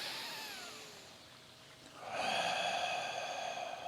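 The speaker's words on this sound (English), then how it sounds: "Dragon breath." Forceful 'dragon breath' from an awakening dragon breathing exercise: a soft, airy exhale fades out, then a stronger rushing breath through the nose starts and carries on, close and fairly quiet.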